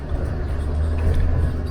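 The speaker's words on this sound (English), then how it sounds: "I'm just first gear, low range, letting the truck crawl its way over things." A Land Rover Defender in first gear, low range, crawls over a big rock step on a gorge track. Its engine gives a steady low rumble close by, with no talk.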